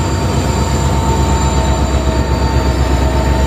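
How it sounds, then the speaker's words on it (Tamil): An Indian Railways WDG4 diesel locomotive rumbles close by, a loud continuous hum with steady whining tones and rolling rail noise. "செம்மையான ஹார்னு செம்மையான ஹம்மிங்கோடு வந்துட்டு இருக்குங்க"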